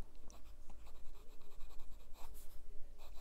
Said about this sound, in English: So let's do a little bit of a writing sample.